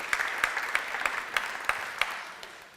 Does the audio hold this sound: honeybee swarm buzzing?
no